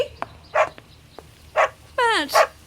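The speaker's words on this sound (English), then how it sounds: "I got your dog tied up outside" A dog in a radio drama gives several short barks and yips, spaced apart, then a whining whimper, fairly close and clear against a quiet background.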